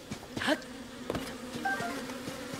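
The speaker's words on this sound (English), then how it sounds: "Oh, get away from the bees, not the bees!" Bees buzz in Zelda: Tears of the Kingdom, a low steady insect drone with a few game sound chirps and soft clicks on top, moderately quiet and without speech.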